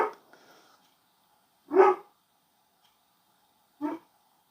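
A small dog barks three times at spaced intervals, with the first bark cut off at the start and two clear yaps following, moderately close in a quiet room.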